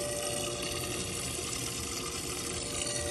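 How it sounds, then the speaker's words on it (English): Aerator in a bait tank made from a water cooler, run off a truck, pushing a steady dense stream of air bubbles through the water, a close, continuous hiss and fizz without pauses. "And you can see all the bubbles that are coming out."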